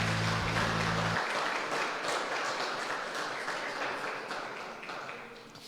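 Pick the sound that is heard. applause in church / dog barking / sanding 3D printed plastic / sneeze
applause in church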